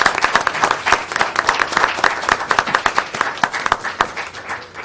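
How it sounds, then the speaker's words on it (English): A meeting audience gives a round of applause, with many hands clapping densely and steadily at close range for several seconds. "we'd like to give you all a great big round of applause."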